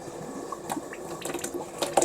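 Water sputtering and spitting with air from a Frigidaire refrigerator water dispenser, irregular gurgling bursts and hiss, fairly quiet and close, no voices.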